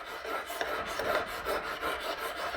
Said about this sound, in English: I've got all this knife sharpening equipment. And now I also work on the vines, so I've got to sharpen up the snips.